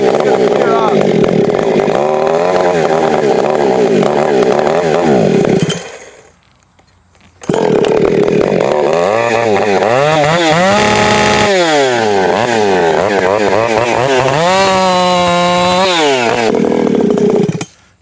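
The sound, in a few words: ported 592 chainsaw engine running with carb issues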